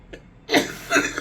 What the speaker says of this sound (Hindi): कौन सी खांसी है बताओ?